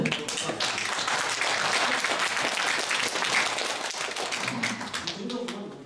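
A workshop audience of traditional market merchants breaks into sustained applause, a dense wash of many hands clapping steadily at moderate distance before slowly tapering off.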